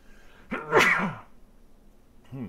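A single sharp human sneeze during a PowerWash Simulator gaming session, heard close and fairly loud in a quiet room, with a brief vocal sound just after it.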